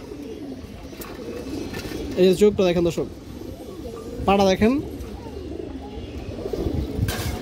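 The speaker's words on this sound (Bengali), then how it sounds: "এই যে দেখেন পিওর হারিকেন কবুতর দর্শক" Hurricane breed pigeons give two loud, close bursts of throaty rolling coos, and someone talks quietly between them.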